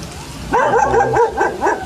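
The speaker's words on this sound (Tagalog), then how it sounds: "Nagagalit mga aso" Dogs barking at a family home in the Philippines, a quick run of five or six sharp, close barks and yips after a brief quiet moment, loud and alone with no talk.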